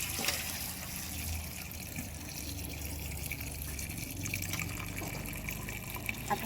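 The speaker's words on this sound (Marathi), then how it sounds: "तर हे पाणी फेकून देऊ आपण." Rinse water poured off washed moong dal in a home kitchen while preparing sun-dried sandge, a steady close liquid gush and splash that runs unbroken throughout.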